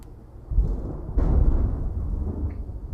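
Thunder from lightning rumbles low and heavy, a deep roll that swells twice and trails off over a quiet background.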